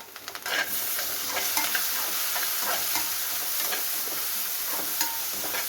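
Tomatoes and onions sizzle in a pan while being stirred, a close, steady frying hiss broken by scraping, clicking strokes of the spoon.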